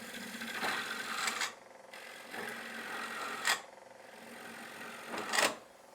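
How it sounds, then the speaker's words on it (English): A gouge cuts a green maple bowl on a wood lathe, giving a steady scraping hiss that rises and falls with each pass, broken by a few brief sharper scrapes, close and moderately quiet. "a little bit cleaner with the gouge"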